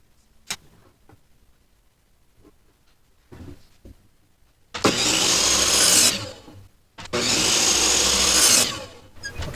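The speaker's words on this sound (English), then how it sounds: "I'm going to take them over to the table saw, and then I'm going to rip them down" Table saw ripping wooden boards into slats for a wall-mounted bookshelf: after a few quiet clicks and handling noises, two loud, sustained cuts roar through, separated by a short pause.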